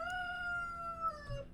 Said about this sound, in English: There go the rooster.